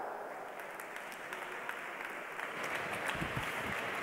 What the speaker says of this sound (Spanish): Les damos un fuerte aplauso, por favor, a Nacho Samper, José de Eusebio y Antonio Delgado